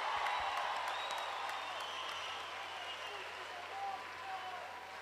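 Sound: concert audience applause

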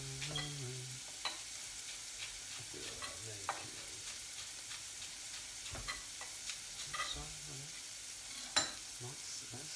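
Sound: bacon and mushroom frying in a pan

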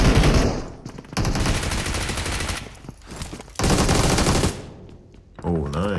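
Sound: gunfire in video game BGMI (PUBG Mobile)

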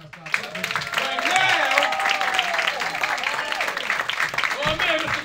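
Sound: audience applause and clapping

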